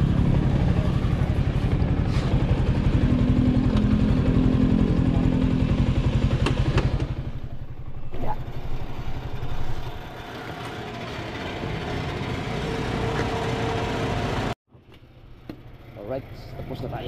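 A motorcycle running at a fuel station, a loud continuous engine rumble that thins out after several seconds and cuts off briefly near the end, with voices talking over it.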